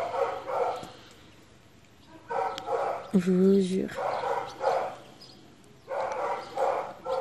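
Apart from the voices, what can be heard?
dog barking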